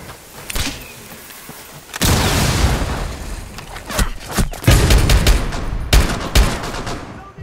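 Gunfire in Rainbow Six Siege comes as loud, sharp bursts of rapid shots. Near blasts start suddenly and end in quick volleys, with brief pauses and clicks between them and no talking.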